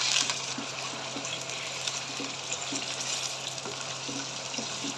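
Chicken pieces frying in hot oil in a karahi, a steady broadband sizzle with faint regular stirring taps and a low hum underneath, continuous and fairly close for the whole stretch.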